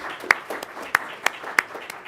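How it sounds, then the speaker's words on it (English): Sparse applause at a school district governing board meeting for the Carl Hayden regional champion team: a small group claps in scattered, distinct hand claps, a few sharper ones standing out, over about two seconds. "give him a round of applause"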